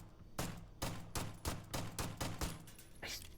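Astra 19 .45 caliber sidearm mod in Starfield, fired in a quick series of about seven sharp, loud, close shots at a steady rhythm, with no other sound.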